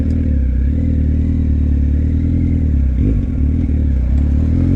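A bright green Kawasaki Z1000 rental motorcycle cruising on the road, its engine holding a steady, loud drone with wind rush and a brief dip partway through.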